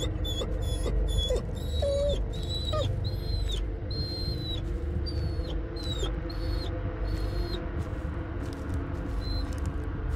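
Bullet, a dog in the horror game Blair Witch, whimpers in a series of high, thin, wavering whines, repeated through a continuous low ambient drone with no voices.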